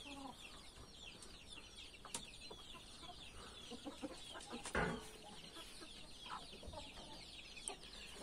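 A hen clucking softly among newly hatched naked neck chicks, with faint peeping and a few brief louder clucks over steady low farmyard background, fairly quiet and close.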